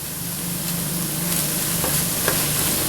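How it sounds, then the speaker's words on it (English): Minced garlic, about a tablespoon, hitting a hot pan in a shrimp étouffée, with a steady close sizzle and a few light stirring scrapes throughout, no voices. "I'm going to add about a tablespoon of minced garlic."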